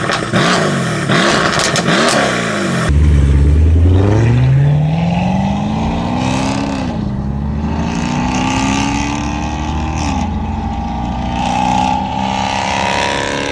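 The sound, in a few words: Mercedes-AMG V8 engine revving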